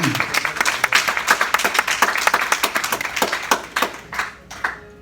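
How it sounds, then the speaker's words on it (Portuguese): A church congregation claps during a worship service at Shalom church in Marietta, a brisk, lively burst of many hands that stays strong and then thins out toward the end. "Vamos aplaudir o Senhor?"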